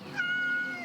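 A cat in the Yes Your Grace video game gives a single drawn-out meow while being petted, close and clear and lasting under a second.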